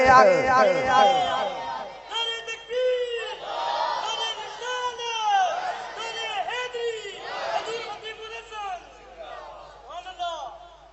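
At a Husaini religious gathering, a crowd chants slogans in loud, rising and falling unison. Strong lead voices call out, and the crowd answers in waves that last the whole stretch.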